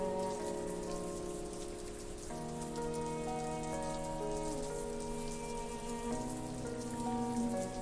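Torrential rain pours down in a dense, steady hiss and patter that fills the whole space, with background music tones sustained underneath and no voices.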